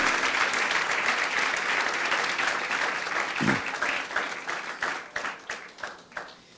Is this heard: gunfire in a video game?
no